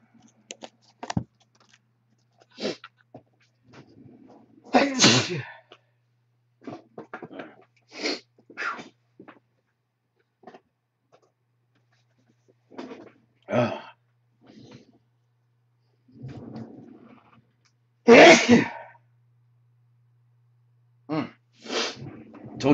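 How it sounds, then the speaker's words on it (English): A person sneezes loudly during a trading card break, a sharp burst that stands out amid quiet stretches and scattered small noises, with another strong burst later on. "I had a sneeze coming."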